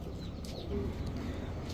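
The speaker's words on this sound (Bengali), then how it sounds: "এই যে দেখেন আমেরিকান হেলমেট কবুতর" An American helmet pigeon at a pigeon seller's gives a soft, low, brief coo over a constant murmur of background noise.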